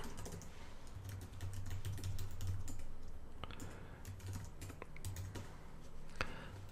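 Rapid clicking keystrokes on a computer keyboard as a message is typed, steady and close, with short pauses between bursts and no talking.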